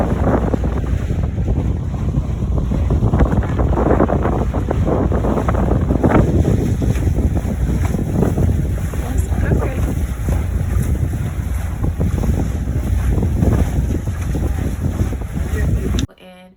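Rented boat cruising the water near Tulum, with a continuous heavy roar of wind buffeting the microphone and engine and wave rumble underneath, steady and close throughout, ending abruptly.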